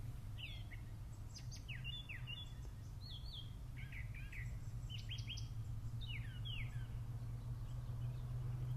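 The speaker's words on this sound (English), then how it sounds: "There's some blackbirds." Several blackbirds call and chirp in short, rising whistled bursts scattered across the clip, set against a steady low hum of background noise in the countryside.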